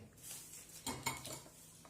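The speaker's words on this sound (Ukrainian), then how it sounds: "Такі глибокі тарілки." Deep ceramic plates, part of a set of used European tableware, clink and rattle as they are handled, with a few sharper knocks of china against china amid faint room noise and no talking.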